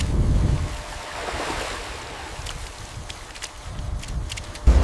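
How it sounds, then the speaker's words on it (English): Floodwater surges in a steady, rushing roar of moving water with gusty, wind-like turbulence, loud and continuous with a sharper burst at the end. "Water surges through, swallowing walkways, tearing order into chaos in a single breath."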